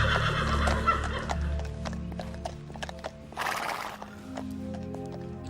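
Horses neigh and whinny repeatedly while hooves clop steadily on the ground, fairly close by, with faint murmuring in the background.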